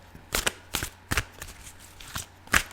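Tarot cards being shuffled by hand in several quick riffling bursts, five or so separated by brief pauses, close and fairly crisp, with no voice over them.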